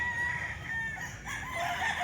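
Bullstag chickens crow and cluck, with a couple of overlapping crowing calls over a continuous barnyard murmur, at moderate distance and free of speech.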